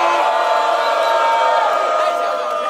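A rap battle crowd roars and cheers in a loud, sustained wall of voices and whoops that holds steady throughout.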